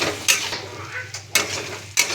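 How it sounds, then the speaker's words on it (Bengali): A spatula scrapes and clanks three times against a kadai pan while fried hilsa fish head is stirred into malabar spinach, sharp metallic strokes spaced about a second apart over a soft sizzle. "এরপর নেড়ে চেড়ে ভালোভাবে মাথাটাকে সবজির সাথে মিশিয়ে নেব।"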